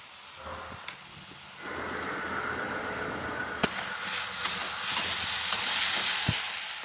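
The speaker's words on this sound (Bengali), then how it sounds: "এবার আলু সয়াবিন মশলা দিয়ে ভালো করে আমি কষিয়ে নেব" Potato and soybean are sautéed with ginger, cumin and garlic paste, green chilli, red chilli powder, turmeric and salt. After a quiet start, a close sizzle swells and runs on, with spatula scrapes and sharp clacks against the pan.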